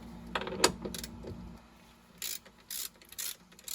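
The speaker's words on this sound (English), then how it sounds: "we need to take off these two bolts here" A ratchet loosening bolts on the door check strap of a 2009-2013 Toyota Corolla, a few metallic clicks and a clink early on, then several short bursts of rapid ratcheting, close up with no talking.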